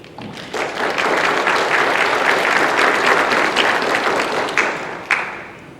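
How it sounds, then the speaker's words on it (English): An audience at a ministry forum applauds a panel, with sustained, dense clapping from many hands that swells quickly, holds steady and tapers toward the end, with a sharp clap near the close. "Let's give a big round of applause for our panel"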